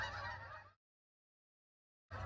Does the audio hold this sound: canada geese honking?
yes